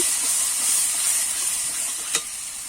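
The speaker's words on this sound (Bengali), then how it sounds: "এই মশলাটা ভালো করে কষিয়ে নেব" Spice paste with turmeric being sautéed in a pan gives a loud, steady hiss of sizzling oil, close and continuous, with one brief clack near the end and no talking.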